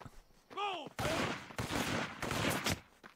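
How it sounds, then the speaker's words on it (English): Bursts of rapid gunfire in the video game inFAMOUS 2 crackle in several volleys, preceded by a brief whistling tone, with the shots fairly loud and dense. "I hear gunfire"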